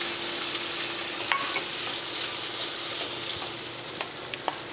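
Spice paste sizzles in hot oil for a tangra fish curry: a steady, close hiss with a few soft knocks of stirring and no talk.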